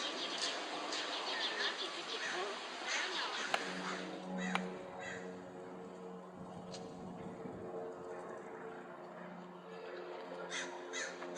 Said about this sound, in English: Some bird up there that thinks he owns everything.